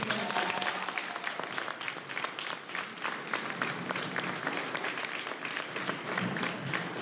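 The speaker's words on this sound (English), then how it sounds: "Let's give them a big round of applause." An audience applauds the four boys who once held the school 4x400 relay record at a 2023 school awards ceremony, with dense, steady clapping sustained for about seven seconds at moderate distance.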